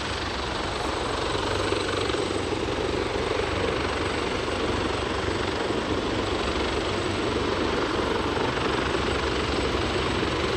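An aircraft approaches to land on runway 32 at Aberdeen airport, a short crosswind runway. Its engine gives a steady, loud, continuous roar that holds level throughout, with no voices.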